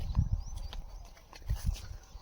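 Soft, uneven hoof steps of bullocks walking, a few thuds close together, fairly faint against quiet outdoor background.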